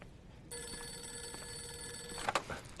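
A telephone bell rings once in a long, steady metallic trill in a quiet room, then cuts off with a couple of clicks as the receiver is picked up.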